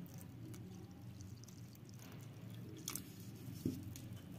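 Water poured into urad dal and onion bonda batter is worked in by hand, giving a faint, steady wet squishing and sloshing close by, with a couple of small splashes and drips.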